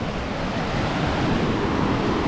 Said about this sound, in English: Look at that waves